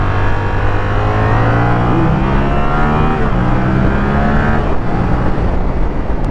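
A 2024 Yamaha R7 sport motorcycle cruising on a highway makes a loud, continuous engine drone that shifts in pitch as the revs rise and fall, mixed with steady rushing wind.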